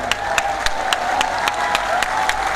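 A large seated crowd applauds in honour of women at a direct-selling business event in Haridwar, giving steady, dense clapping with a few sharper claps standing out and no talk over it.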